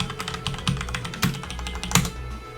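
Fast close-up clatter of keys on a computer keyboard as a command is typed, quick irregular clicks with a few heavier strokes, no voices.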